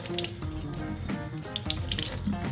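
Pork tenderloin is rinsed under a running kitchen faucet, a steady close splashing of water into a sink with shifting spatter as the meat is moved through the stream, with no voices.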